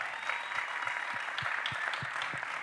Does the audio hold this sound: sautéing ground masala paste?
no